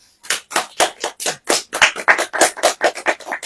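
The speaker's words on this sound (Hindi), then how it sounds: "ताली बजाएं।" A church congregation claps in a quick, steady rhythm, with about fifteen loud, sharp handclaps in close succession and no talking.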